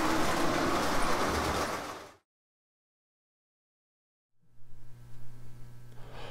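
A model O gauge train, a small yellow engine without cars, rolls along the track with a steady rumbling clatter, stops into silence midway, then starts again with a motor hum and clicking.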